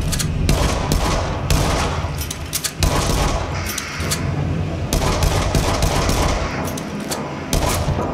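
Rapid bursts of gunfire from the VR shooter Until Dawn: Rush of Blood ride along the rail track, loud clustered volleys with brief gaps, a sustained fusillade that rarely lets up.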